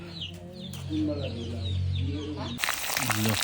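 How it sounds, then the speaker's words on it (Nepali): Chickens cluck and chirp close by in a busy, overlapping chorus, with a sudden burst of rustling near the end. "कुखुराहरू"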